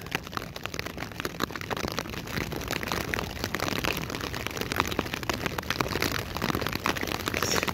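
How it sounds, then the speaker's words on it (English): Heavy rain patters on a tarp shelter at night, a dense, continuous crackle of drops striking close overhead at a steady moderate level throughout. "Raining pretty heavy."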